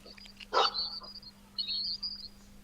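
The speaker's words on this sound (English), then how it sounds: "Oh, is that your dog?" A dog barks twice, a sharp bark followed by a longer one, moderately close, over a steady low electrical hum.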